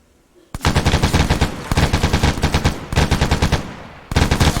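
Loud, close automatic gunfire in the military shooter ArmA 3, rapid bursts of shots in four long volleys separated by brief pauses, with no talking.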